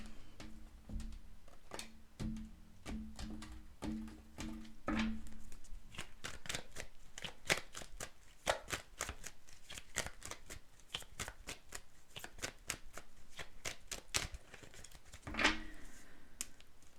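Tarot cards shuffled by hand to pull a single card: a close, steady run of crisp riffling flutters and snaps, with a few soft thumps early on and a louder burst near the end, with no talking.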